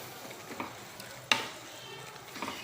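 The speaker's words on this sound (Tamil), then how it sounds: "சிக்கன் இருக்கு இல்லையா இப்போ இதில் போட்டுக்கலாம் சூப் கொஞ்சம் இருக்கும் அதோட போட்டுக்கலாம் ஒரு கலை கலக்கலாம்" Chicken being stirred into soup in a cooking pot gives soft scraping and a low simmering hiss, with one sharp metallic clack partway through, close and fairly quiet.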